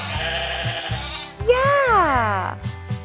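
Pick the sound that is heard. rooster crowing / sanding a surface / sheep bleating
sheep bleating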